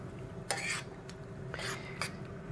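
A spoon stirs homemade mango BBQ sauce with chipotle powder, cayenne, kosher salt and black pepper in a pot, making a few soft scraping strokes over a low steady background, with no talking.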